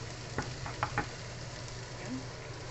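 Minced beef frying in a pan gives a faint, steady sizzle with a few soft clicks and light stirring knocks spread through it.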